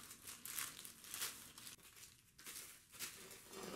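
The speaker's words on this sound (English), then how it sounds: "We can just rip the plastic off of these bars." Plastic wrap is torn and crinkled off the metal bars of a Huanuo adjustable TV tray table during assembly, giving faint, uneven bursts of crackling and ripping with no talk.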